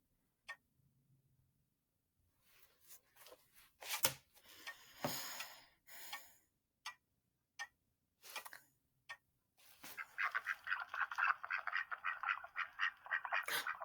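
Ducks quacking in a sound-guessing game: a short sparse call, a cluster of quacks, a few scattered single quacks, then a dense, sustained run of rapid quacking near the end, all clear and without talk.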